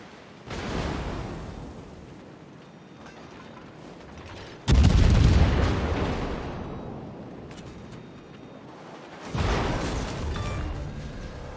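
Warship guns fire in the World of Warships video game, with three heavy booming salvos spaced several seconds apart, each a sudden loud blast followed by a long rumbling decay.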